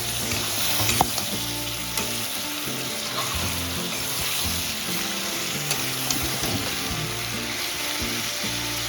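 Rui fish pieces with cauliflower and potato sizzle steadily in hot oil in a Bengali home kitchen, with the broad crackling hiss of frying running throughout and a few light clinks and scrapes of stirring.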